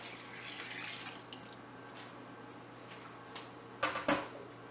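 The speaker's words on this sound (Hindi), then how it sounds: "अब हमने इसके अंदर पानी डाल देना है" Water is poured into a cooking pot for yakhni pulao, a soft continuous splash and trickle with a couple of louder sloshes near the end, fairly quiet and close.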